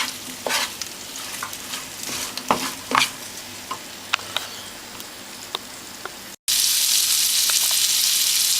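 Garlic prawns seasoned with white pepper and salt cooking gently in a pan, a close, steady sizzle broken by scraping stirs and clinks, then a brief cut to a louder, denser crackle of frying.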